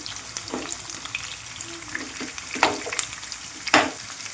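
Chopped onion and green chilies frying in hot oil for chicken liver curry, a close steady sizzle broken by several louder scraping stirs of the spatula against the pan.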